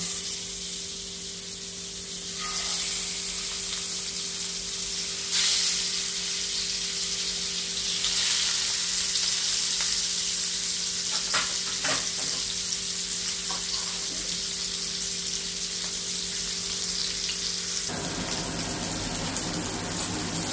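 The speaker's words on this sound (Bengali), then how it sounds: "আমি এবার মাছটা হালকা করে ভেজে নেব" Hilsa fish pieces shallow-frying in a preheated kadai of hot oil give a steady, close hiss with scattered crackles and brief spits, and the sizzle holds throughout with no one speaking.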